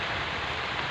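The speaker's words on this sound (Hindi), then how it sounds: "अब बारिश तो अब मस्त गिरे चालू हो गई" Rain falls steadily as a dense, even hiss of drops, close and continuous with no voices.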